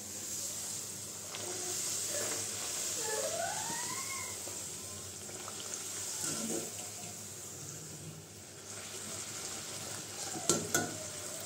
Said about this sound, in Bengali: সবগুলো লুচি ভেজে নিতেছি।